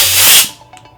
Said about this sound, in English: And then you connect the fitting with the air hose.